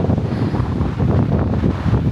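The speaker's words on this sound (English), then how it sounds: "Sorry about all the wind," Strong wind blows across a choppy lake at a park in Geneva, Ohio. It buffets the microphone as a loud, constant low roar, with a faint wash of water underneath.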